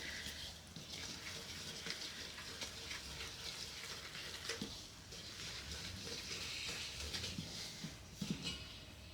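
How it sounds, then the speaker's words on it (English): A whisk beats eggs into a well of flour for homemade lasagna noodles, a faint, continuous scraping and swishing with soft irregular taps against the bowl. "I'm scrambling the eggs in the center, slowly incorporating the flour into it"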